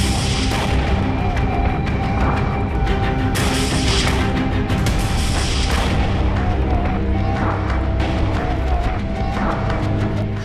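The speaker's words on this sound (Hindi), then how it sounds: "घात लगाकर टैंक पर हमला होता है।" An ambush attack blows up an Israeli tank, with heavy explosive blasts and booming impacts piling up over a dense, continuous roar of battle noise that stays loud throughout.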